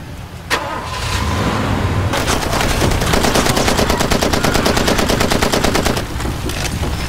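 Loud rapid automatic gunfire in Far Cry 2, a shot followed by sustained machine-gun bursts rattling over a rumbling vehicle engine for several seconds before easing off.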